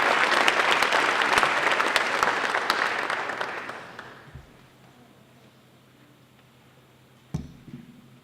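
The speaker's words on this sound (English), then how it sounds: "Let's have a strong round of applause for our highly valued and important partners" Audience applause at a spring graduation and awards ceremony, loud and dense for about four seconds, then fading out into a quiet room with a couple of faint knocks near the end.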